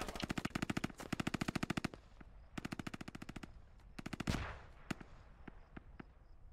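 In the video game Squad, an SAW machine gun fires several sharp, rapid bursts, followed by a louder blast and scattered single shots at a distance.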